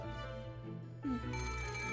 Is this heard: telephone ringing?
yes